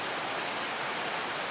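Steady rain falls on a garden, a dense, even wash of hiss filling the whole short stretch with no individual drops standing out and no voices.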